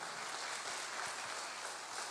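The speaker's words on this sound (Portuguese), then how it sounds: "As palmas para ele." Steady, dense clapping from a church congregation fills the clip, continuous and fairly even throughout, with no voices standing out.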